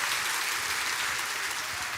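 Church congregation gives a dense, steady round of applause, a loud wash of many hands clapping together with no talk over it.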